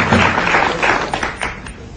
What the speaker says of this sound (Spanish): Un aplauso para las chicas de vóley, para la compañera de vóley.